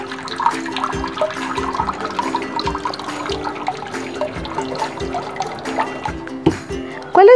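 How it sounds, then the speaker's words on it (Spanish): Water drains and drips from a potted rabbit's foot fern (Davallia) lifted out after watering, with irregular trickling and a run of distinct drops falling at a slow, uneven rhythm, close by. "Y voy a esperar que destile perfectamente el agua."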